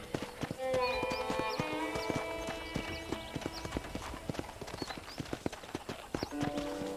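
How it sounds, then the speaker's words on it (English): Horse hooves clip-clop steadily during riding in the Red Dead Redemption video game, sharp rhythmic footfalls over a musical score, with occasional faint whinnies and no talking. "I'm surprised how well the horses ride as well"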